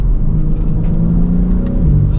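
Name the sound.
BMW M4 Competition convertible accelerating with quick gear shifts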